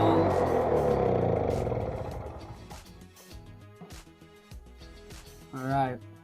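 An MTD snowblower engine that is leaking fuel cranks and catches, a loud rough rumble that fades and sputters into uneven pops, with a voice briefly heard near the end.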